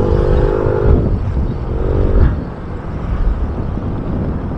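A Yamaha Mio 125i scooter motorcycle runs off-road over rough ground, its engine droning steadily with a brief rise in revs partway through, mixed with bumpy rumble and wind noise close to the rider.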